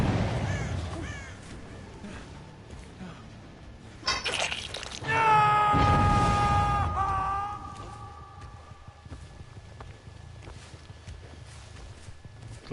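Crows caw in the Dead by Daylight video game, a burst of harsh repeated calls rising sharply midway and fading out, with game ambience and faint footsteps around them.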